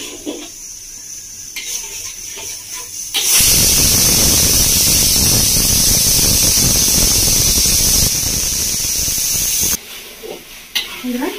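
Pressure cooker cooking potatoes and peas lets out a loud, sustained hissing whistle lasting several seconds in a village kitchen, preceded and followed by quieter background sounds.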